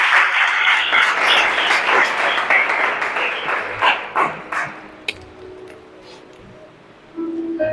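A church congregation breaks into loud, dense applause during a Spanish-language sermon on the Word of God. The clapping is sustained for several seconds, then thins out and fades into quieter room sound.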